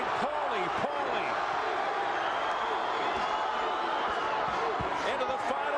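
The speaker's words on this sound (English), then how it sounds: "The crowd chanting, Johnny, Johnny. Another part of the crowd chanting, Paulie, Paulie." Boxing arena crowd roaring through the final round of the WBA Bantamweight Championship bout between Johnny Tapia and Paulie Ayala, a dense, continuous wall of cheering and chanting with a commentator talking over it.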